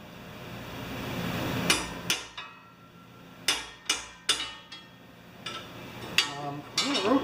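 Sharp metal hammer blows on a punch, driving a part out of a Husqvarna 14.5 HP snowblower's auger assembly, come as about ten close, loud strikes in irregular pairs and singles with short gaps between.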